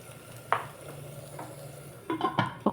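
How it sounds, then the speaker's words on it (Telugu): Onions and tomatoes frying for a village-style country chicken curry, with a low steady sizzle and a few sharp scraping stirs near the end, fairly close and without any talk. "ఈ విధంగా మొత్తము బాగా ఫ్రై చేసుకోవాలి పచ్చి వాసన లేకుండా"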